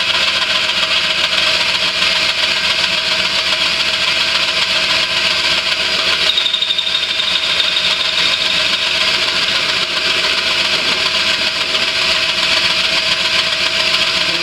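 A cylinder head resurfacing machine running at about 800 RPM, a steady, loud mechanical drone with a bright high whine and constant hum, unchanging throughout with a brief faint squeal midway, no voices.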